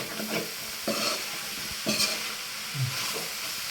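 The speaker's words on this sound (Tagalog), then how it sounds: "Ito naman, niluluto na ngayon ay Bicol Express. Ginigisa na po niya." Bicol Express sautéing in a pan, with a steady sizzle broken by several scraping stirs of the spatula at regular intervals, close and fairly quiet.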